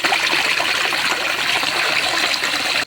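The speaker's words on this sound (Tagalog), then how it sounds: "Pakinggan ninyo ang sounds na ito, ang tunog na ito ang lagaslas." Clear water babbles and rushes steadily over a small, low waterfall in a river, a loud, close, continuous splashing wash with no voices.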